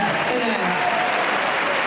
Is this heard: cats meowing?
no